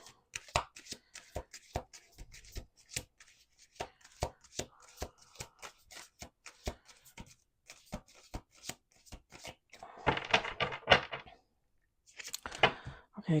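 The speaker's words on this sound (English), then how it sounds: "One last shuffle." Close-up hand shuffling of a deck of playing cards, steady quick clicking riffles building into two dense fluttering bursts near the end, no voices.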